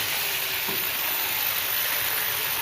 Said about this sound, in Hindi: इसकी हमने बहुत अच्छे से भुनाई कर लेनी है। भुनाई हो रही है